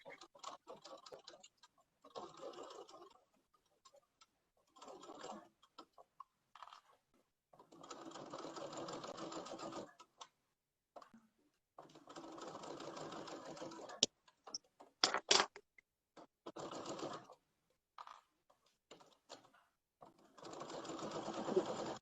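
A sewing machine stitches leather slippers in bursts, rapid mechanical ticking runs of a few seconds each separated by pauses, close and clear, with no talking.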